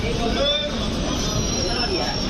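The 12859 Gitanjali Express rolls out of Nagpur toward Gondia Junction with a low rumbling rail roar and faint wheel squeals, heard from inside a sleeper coach with passengers chattering around.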